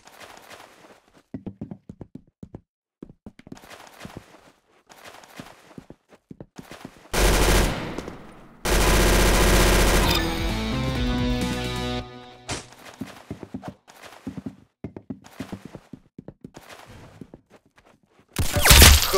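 A shooter video game plays loud close gunfire, with single shots, sustained automatic bursts and a heavy volley near the end. Softer footsteps and clicks fill the gaps between bursts.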